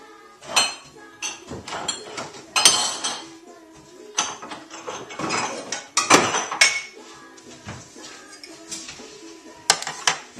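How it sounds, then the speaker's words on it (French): Ceramic cup handled at an espresso machine, with irregular clinks, knocks and clatters of dishware at close range, some sharp and some softer, in a quiet room. "Je prends une tasse."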